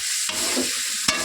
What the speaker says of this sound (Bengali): তারপরে দেবো হলুদ এবং দেবো লবণ। তো ভালোভাবে নাড়তে হবে।